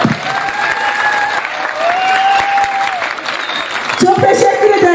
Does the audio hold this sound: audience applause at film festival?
yes